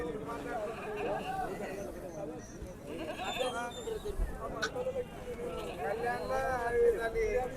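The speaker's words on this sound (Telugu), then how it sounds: "పెద్ద పోతు పెద్ద సైజు మేకపోతు రెగ్యులర్గా ఉంటాయండి వీళ్ళ దగ్గర మేకలు" Goats bleating repeatedly among a crowd at a rural livestock market in Dubbaka, Siddipet district, with large male goats present; the calls rise through steady nearby talk and background babble.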